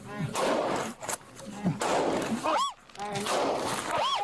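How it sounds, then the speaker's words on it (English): A single gunshot, apparently from a Sig P320 pistol, cracks out during a police call and is picked up on officers' body cameras. It sounds sharp and loud amid busy background noise, with voices and electronic chirps from the cameras. "3 body cameras rolled as the sound of a gunshot rang out"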